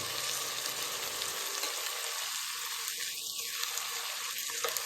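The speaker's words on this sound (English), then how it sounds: "this is going to cook on low heat for about 10-15 minutes with the lemons and everything" Moroccan chicken with olives and lemon simmering on low heat in a pan, giving a steady, close, even sizzle throughout with a few faint tonal clinks partway through and no talking.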